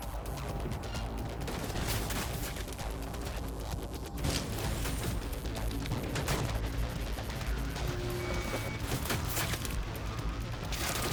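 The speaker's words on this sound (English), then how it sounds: "Hostiles engaged! Opening fire!" A dense, loud firefight in Cyberpunk 2077, with continuous overlapping gunshots and bursts of automatic fire over a busy game soundscape. A little speech is mixed in.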